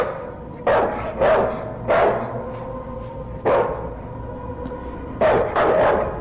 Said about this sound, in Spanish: No puedo ni oír mis pensamientos con los pinches ladridos